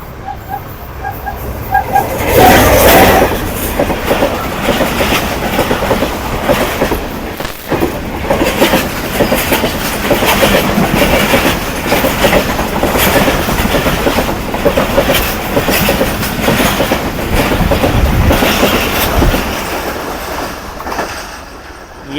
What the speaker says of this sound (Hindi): और अब ट्रैक पर आ रही है 11 अप हज़ारा एक्सप्रेस।